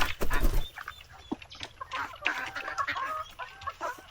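Native chickens at a rural countryside home cluck and squawk loudly and close by, with irregular bursts and some wing flapping, and a few sharp calls overlapping.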